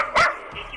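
A single short bark from a female dog, heard through a phone line on a call-in radio show, brief and slightly muffled.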